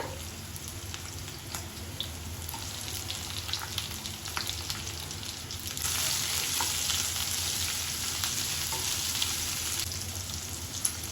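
Onions and capsicum sizzle steadily in a pan, a continuous close frying hiss that thickens midway as more vegetables go in, with occasional stirring scrapes and no voices.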